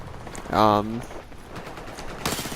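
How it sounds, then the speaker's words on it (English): MP7 submachine gun fire in Battlefield 4, a short loud burst of rapid shots followed by a second burst, with game sounds around it. "in this clip I am using the MP7."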